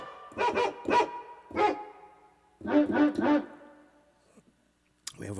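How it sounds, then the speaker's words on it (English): A dog barking sound effect played from a Roland FP-30X digital piano: two quick clusters of loud, close barks, the first three and the second three, with a brief noise at the end. "We have a dog."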